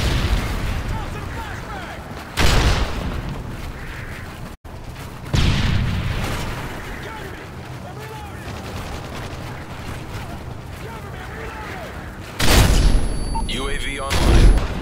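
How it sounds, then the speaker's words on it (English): Predator missile strike in Call of Duty: Modern Warfare 2, several loud booming blasts spaced through the stretch amid game noise and gunfire. "friendly Predator missile inbound"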